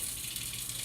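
Water pours steadily into a container for instant dumplings, a continuous close splashing gush with no speech over it.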